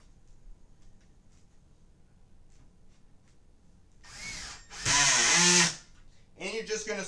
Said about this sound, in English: And you're just going to screw them all down.